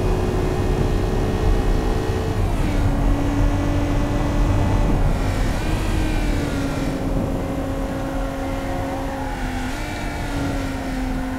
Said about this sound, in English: A lot of road noise or wind noise.